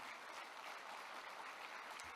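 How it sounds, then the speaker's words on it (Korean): At the opening ceremony of a world convention of overseas Korean community leaders, an audience applauds steadily. The clapping is fairly faint and distant, with a continuous even texture throughout. "지난번 우리 민주당에 박수 좀 부탁하겠습니다"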